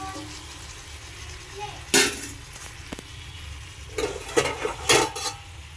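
A utensil stirs chopped tomatoes into chicken kulambu in a cooking pot, giving a few sharp metallic scrapes and clinks in short bursts over a quiet background.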